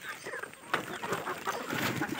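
Chickens clucking and squawking as they are let out of a shed on a small low-budget poultry farm in Konkan, several birds calling at once in a busy, close, continuous flurry with some flapping.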